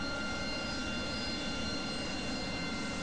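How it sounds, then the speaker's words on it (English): Aircraft engine roar in the DCS 2.5 flight simulator game during a snowy flight, a steady, dense broadband drone with a faint whine, constant and loud with no talking. "That's a plane."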